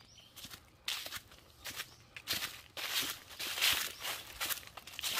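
Footsteps crunching through dry fallen autumn leaves on a mountain walking trail, an irregular series of close, crisp rustling steps at moderate volume with no talking.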